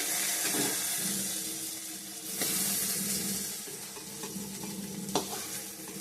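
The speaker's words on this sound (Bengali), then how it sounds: "এখানে ফোড়ন দিয়েছি পেঁয়াজ শুকনো লঙ্কা তেজপাতা গোটা জিরে" Onion, dry red chilli, bay leaf and whole cumin tempering in hot oil for a rohu fish curry with potato and pointed gourd, a loud continuous sizzle broken by the scrape of a spatula stirring the pan.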